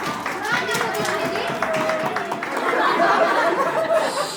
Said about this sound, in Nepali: धेरै धेरै तालीले स्वागत गरौँ उहाँलाई।